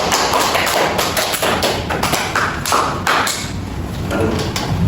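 Classroom applause after a group presentation: dense, continuous clapping from many hands, loud and close, filling the whole stretch.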